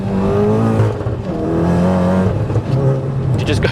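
A manual VW MK7 Golf R track car accelerates through its gears, the engine note climbing, dropping at each shift and climbing again, loud and close from inside the cabin.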